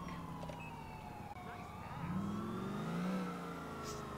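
A distant police siren in the video game GTA IV with the LCPDFR mod wails under a steady Chevrolet Caprice engine hum that swells and revs in the middle, fairly faint overall.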